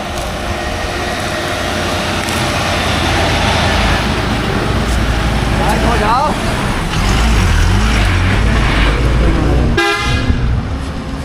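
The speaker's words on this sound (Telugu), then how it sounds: "చూడండి బస్సులు ఎట్లా వస్తున్నాయి" Heavy road traffic on a hill road in Araku, with buses passing close by over a steady, loud rumble and repeated horn toots, while voices talk over the noise.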